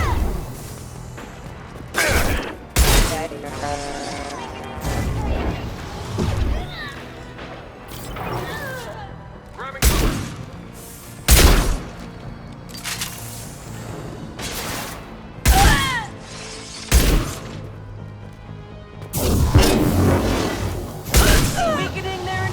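Heavy weapon fire in Mass Effect 2, loud booming shots landing in irregular bursts of two or three with brief gaps, set over a steady rumbling game score, with speech heard between the blasts.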